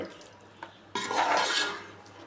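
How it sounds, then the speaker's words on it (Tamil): Marinated meat for Hyderabadi biryani is stirred in a pot: a light clink, then a sudden burst of hissing, scraping sizzle that swells and slowly fades, close and without speech. "நல்லா கிளறி விட்டு ஒரு 5 நிமிஷம் ஹையில் வைக்கணும்."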